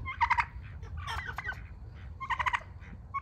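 Farm fowl, turkeys and chickens, calling close by: two bursts of gobbling, clucking calls at the start and end with softer calls between, over a steady low rumble.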